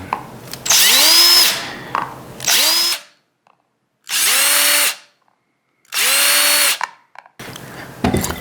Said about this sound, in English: We're just gonna drill a bunch of holes.